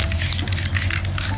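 A spray paint can hisses in continuous bursts while making a spray-art painting of the sea, loud and close, with breathy pulsing texture and no speech.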